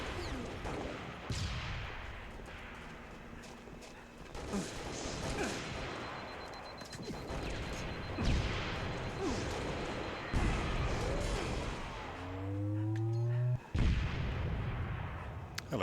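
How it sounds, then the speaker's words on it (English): Rocket explosions in a Halo Master Chief Collection multiplayer match on PC, heavy booms and crashes scattered through a dense, busy game soundscape with whooshes and gunfire, fairly loud throughout. "Someone has rockets."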